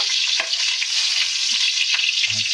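Garlic frying in hot cooking oil, a steady close sizzle that stays even throughout with a few faint stirring knocks and no voices.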